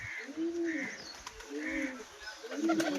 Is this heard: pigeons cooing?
yes